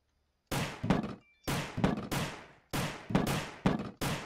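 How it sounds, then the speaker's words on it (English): Repeated heavy thuds of hitting a wooden barricade in the Roblox game Rise of the Dead, five sharp impacts in uneven succession, each with a short decaying rumble, loud and alone. "I'm trying to destroy this wooden barricade."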